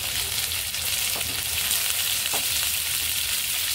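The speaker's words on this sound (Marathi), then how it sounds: "आणि याला छान तेलावर आपण परतून घेऊया।" Fresh ginger and green chillies sauté in hot oil for butter chicken, a steady, close sizzle and crackle with a few soft scrapes of stirring and no talk.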